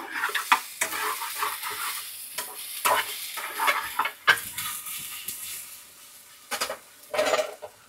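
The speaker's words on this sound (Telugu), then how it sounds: "ఫస్ట్ తెల్లగడ్డలు టమాటాలు అయితే వేయించుకున్నా." Garlic and tomatoes fry in a pan, sizzling softly while a utensil stirs and scrapes against the pan in irregular bursts, close and fairly quiet.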